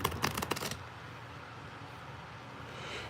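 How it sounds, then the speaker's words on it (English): A deck of playing cards is riffle-shuffled at a blackjack table in Las Vegas. A quick burst of crisp riffling fills the first second, then the room settles into a low, steady hum. "But we'll shuffle it one more time"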